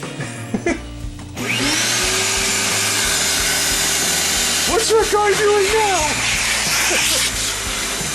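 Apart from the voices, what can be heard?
vacuum cleaner in exhaust mode blowing dust out of computer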